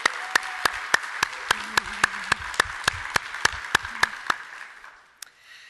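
A conference audience gives a round of applause, heard as a soft, thin patter of clapping topped by a steady series of sharp regular clicks, tapering off to near silence at the end.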